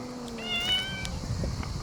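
A kitten on Skiathos gives a few short, high meows in quick succession, close and fairly clear over faint background noise.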